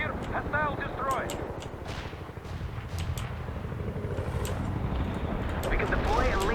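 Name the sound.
artillery barrage and gunfire in video game World in Conflict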